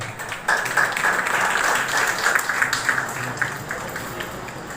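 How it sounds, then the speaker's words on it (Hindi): An audience in a hall at a school foundation day celebration in Bhilai applauds in a steady, dense wash of clapping that begins abruptly and carries on throughout. "जोरदार तालियों के साथ आप भी अतिथियों का स्वागत अभिनंदन कीजिए"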